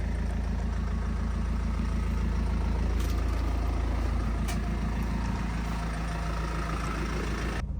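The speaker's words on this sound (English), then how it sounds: "I just realised the engine's been running up, you can hear me." A steady low engine idle rumbles continuously, close by and even, with a faint rhythmic throb and no talking.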